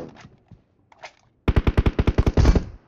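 A Groza rifle fires in a rapid full-auto string of about a dozen crisp, punchy shots in the mobile shooter PUBG Mobile, preceded by a few faint handling clicks and closing in a dense, loud burst.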